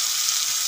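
Pumpkin and spices frying in a pan give a brief, steady, close sizzle with a soft crackle, heard alone.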